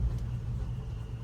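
A 1968 Chevrolet C10 pickup truck on the move, its engine giving a steady low rumble that holds close and even for a brief stretch, with no voices over it.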